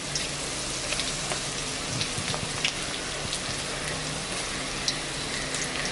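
Vada frying in hot oil, with onion and coriander in the batter: a steady, close crackling sizzle that runs through the whole stretch with no talk over it.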